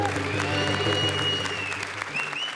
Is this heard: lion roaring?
no